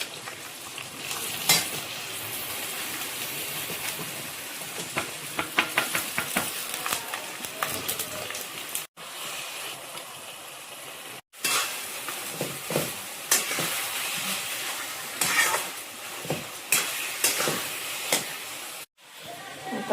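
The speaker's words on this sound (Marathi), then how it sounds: "गुळ वितळलाय, आता खोबरं टाकते" Grated coconut stirred into melted jaggery in a pan while making modak filling, giving a steady sizzling hiss with scraping spatula strokes throughout, close and continuous, broken by a few brief silent gaps.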